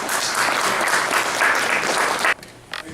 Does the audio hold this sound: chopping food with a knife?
no